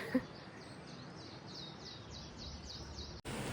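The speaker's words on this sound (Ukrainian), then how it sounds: "І послухайте, як співають пташки." Birds sing on a beach in Tenerife, a faint repeating series of high chirps over a steady soft wash of background noise, with a brief louder knock early on.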